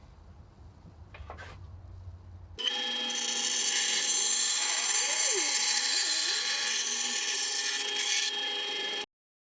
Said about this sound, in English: I'm just going to try and cut somewhere around a 2mm edge off it